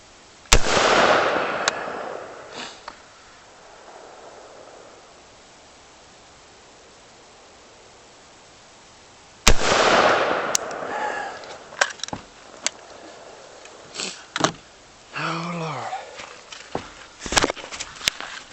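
Gunshots fired during target practice in the woods: two sharp outdoor reports about nine seconds apart, each with a long ringing decay, followed by a scatter of softer knocks and brief noises.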